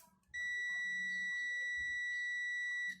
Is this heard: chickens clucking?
no